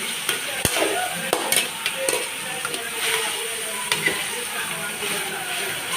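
Tomatoes and fish sizzling and frying in a curry pan, a steady hiss with intermittent scraping stirs and a few sharp taps of the spoon against the pan.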